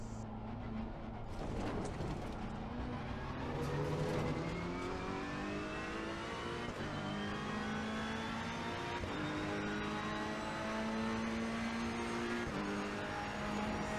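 Ferrari 488 GT3 race car engine on an onboard lap of Circuit Paul Ricard in Assetto Corsa Competizione, a steady high-revving roar climbing through gears with shifts, close and continuous throughout.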